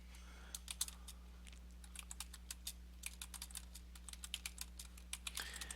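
Fast, irregular typing on a computer keyboard as text is entered into a text box, with crisp clicking keystrokes in quick bursts and short pauses over a low steady hum. The keys sound close but fairly quiet, with no talking.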